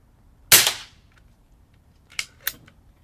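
A single sharp shot from an Umarex Zelos .25 air rifle fitted with a moderator firing a pellet, a crisp near crack with a short tail, followed by two fainter clicks.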